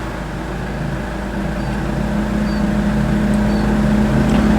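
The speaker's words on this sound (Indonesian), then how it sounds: "Saya akan nyalakan mesinnya." A diesel engine in a 2010 Chevrolet Captiva SUV idles with a low, even hum and a faint whine, growing slightly louder over the few seconds, no voices present.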